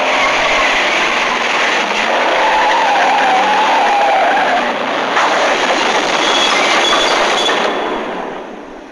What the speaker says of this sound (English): Dawn's Mustang collided head-on to the backside of the city bus